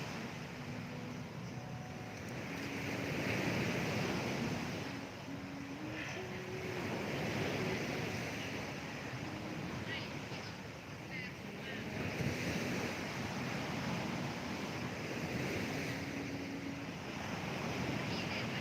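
Ocean waves rolling onto the beach at Pattaya, a steady surf wash swelling and easing with wind buffeting the microphone and faint distant background sounds.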